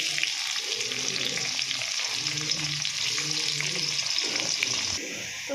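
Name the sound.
onions frying in oil in a wok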